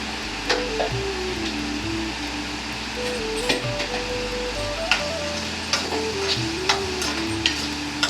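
Turmeric frying in a pan for a potato curry, a steady soft sizzle with faint ticks and light scraping, while a melodic tone, likely background music, runs beneath throughout.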